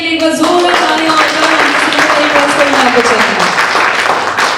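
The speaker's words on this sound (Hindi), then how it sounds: "प्लीज एक बार ममता जी के लिए एक बार जोरदार तालियां हो" Audience applause for a woman named Mamta Singh whose name was just announced, a steady, loud wash of clapping throughout, with a voice talking over it near the start.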